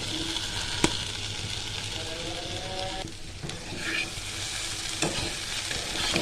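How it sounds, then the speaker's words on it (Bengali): Bitter gourd and potatoes stirred and fried in a pan with ginger, a steady sizzle broken by a few sharp clacks of a spatula against the pan, close and moderate in level. "ভালো করে একটু নেড়ে চেড়ে আর একটু কষিয়ে নেব।"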